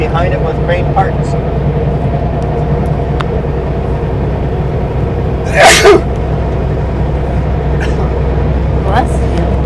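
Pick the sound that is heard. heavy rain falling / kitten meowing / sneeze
sneeze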